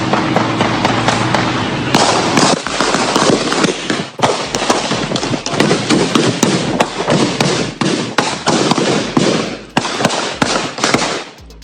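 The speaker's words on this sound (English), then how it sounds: "Just as he was hyping up the crowd, gunshots rang out." Rapid, loud cracks of gunfire erupting during a rapper's live stream before a crowd, a dense string of sharp pops over roughly twelve seconds with crowd noise underneath.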